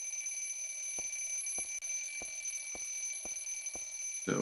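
An alarm beeps in a steady rhythm, seven short evenly spaced tones over a constant high electronic whine, close and clear with no talking.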